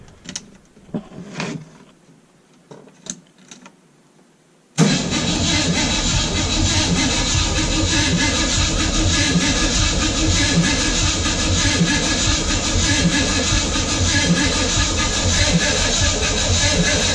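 A Mazda RX7 fitted with a V8 engine cranks briefly and then fires, settling into a loud, steady, rumbling idle that carries on alone and close to the end.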